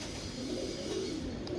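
Pigeon cooing softly during rainy weather, a faint low warble over steady background hiss with no other voices.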